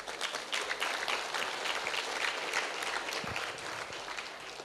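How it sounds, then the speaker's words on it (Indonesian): Audience clapping at an Islamic school examination celebration in Surabaya, a fairly faint, diffuse patter of many hands that swells and then tapers off toward the end. "Tepuk tangan semuanya."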